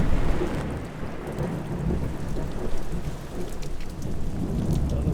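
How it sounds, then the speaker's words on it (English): Heavy rain pours steadily on a rural French homestead, with deep thunder rumbling underneath the dense hiss of rain throughout. "A lot of rain."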